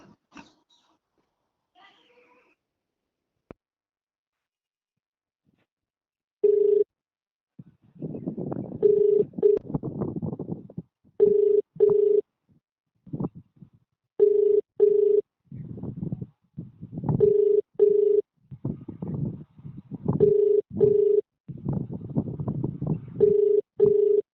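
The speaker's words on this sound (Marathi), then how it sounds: "बरोबर मी त्याला अजून पण फोन लावतो" Outgoing phone call ringback tone: a steady tone in paired pulses repeating at regular intervals for about 17 seconds, with a murmur of background noise and faint voices between the rings.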